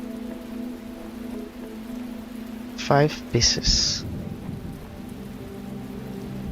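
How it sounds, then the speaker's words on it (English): Steady rain falls outside in Melbourne, a continuous soft patter under a low hum, briefly interrupted by a few short electronic beeps and a voice speaking. "It's actually raining in Melbourne"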